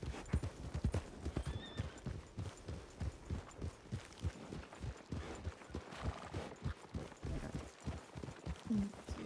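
Horse hooves clip-clopping at a steady trotting rhythm in a video game, close and continuous, with a brief whinny near the end.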